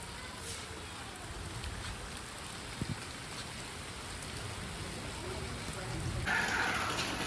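Heavy rain falling outdoors, a steady faint hiss of drops on surfaces throughout, with a brief knock midway and the rain swelling slightly louder near the end.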